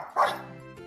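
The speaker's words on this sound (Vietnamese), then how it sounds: "Con chó con." A puppy gives one short, loud yipping bark near the start, followed by a fading whimpering tail, heard close and alone.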